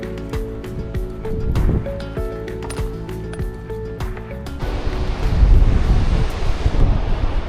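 Wind buffets the microphone at Plage de la Palue beach in Brittany, and surf roars and swells louder toward the end, loud and continuous with no talking.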